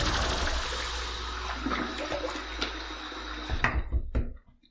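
Running water splashes and gushes steadily in a bathroom while the face is wetted before a shave with a long-handled Heritage razor, ending with a few knocks and clatters as the flow stops; no speech.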